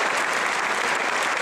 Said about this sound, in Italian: io direi un grande applauso a tutti i ragazzi e alla prima squadra